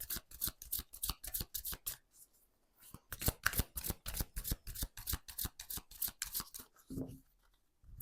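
A deck of tarot cards is shuffled by hand in quick rhythmic riffling bursts, pausing briefly before resuming, then cut with a soft final shuffle near the end.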